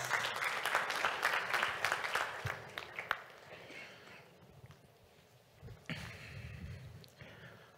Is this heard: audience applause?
yes